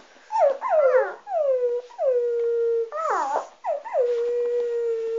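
An injured dog howling and whimpering, a series of rising and falling cries, some long and drawn out, others short and broken, close and clear with nothing else around them.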